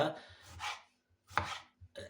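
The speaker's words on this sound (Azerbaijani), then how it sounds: "bax bu şəkildə doğrananda" A knife chops food on a cutting board for Azerbaijani chicken buglama, giving a few close, separate crisp cuts with short pauses between them.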